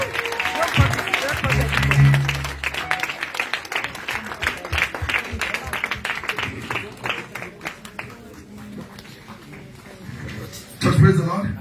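A church congregation claps in praise with a run of sharp, rhythmic handclaps, while voices call out and speak over the clapping throughout.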